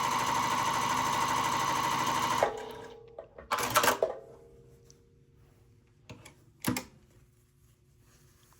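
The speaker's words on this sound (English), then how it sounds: "I will step on the pedal. And let's test out the stitches." A Juki TL-15 mid-arm quilting and piecing sewing machine stitches in a steady, fast mechanical run for about two seconds, then stops, followed by a few quieter clicks and handling knocks.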